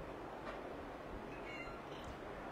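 A house cat gives a soft, short meow indoors against a steady low background hum, faint and fairly close.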